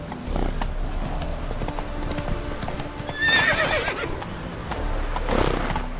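A horse in The Witcher 3 galloping with steady, rhythmic hoofbeats and a clear neigh midway, followed by more hooves and a second whinny-like burst near the end.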